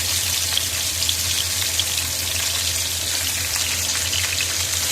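Chicken pieces, about 80 grams, fry in hot oil in a karahi with a steady, dense crackling sizzle that holds evenly throughout, close and fairly loud, with no talking.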